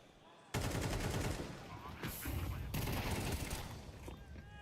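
Grenade blast in a Counter-Strike esports match, heard as a sudden loud burst followed by sustained roaring, crackling gunfire and chaotic game noise that runs on dense and heavy throughout.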